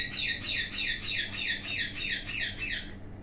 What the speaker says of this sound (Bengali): এখানে অনেক পাখি আছে, তাই পাখির কিচিরমিচির শোনা যাচ্ছে।